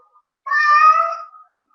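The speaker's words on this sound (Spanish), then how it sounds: "ese gato está con dolor" A female mixed-breed cat, eight years old, gives one drawn-out, loud, close meow of pain while suffering from arterial thromboembolism, with near silence before and after the cry.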